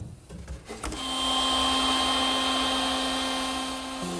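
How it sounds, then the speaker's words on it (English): Router table with a standard chamfering bit cutting a 45-degree bevel on bookcase parts held against a feather board: the motor spins up to a loud steady whine that holds close and alone, easing slightly near the end. "And I'll do that over at the router table."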